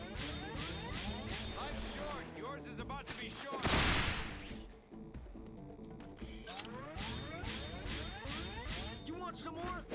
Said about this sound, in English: Okay, these things do have guns.